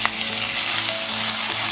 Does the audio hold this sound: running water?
no